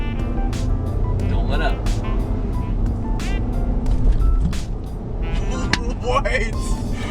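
A 2019 Ram 1500 Tradesman short single-cab pickup rattles and thumps over bumps, with road and engine rumble and repeated sharp clunks from the suspension while people talk inside the cab over the noise.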